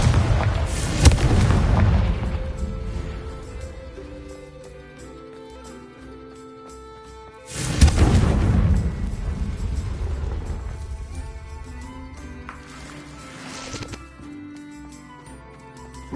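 Two loud Confringo fire spell explosions in the Hogwarts Legacy video game, each a sharp booming blast followed by a long rumbling fade, spaced several seconds apart, with a quieter third burst later and little other sound.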